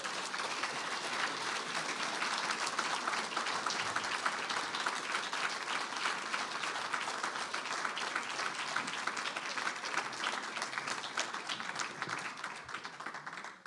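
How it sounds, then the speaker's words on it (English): An audience applauds after a faculty presentation on paintings, with a long, steady, moderately distant round of clapping that tapers slightly at the end. "More applause for Mark Adams, please."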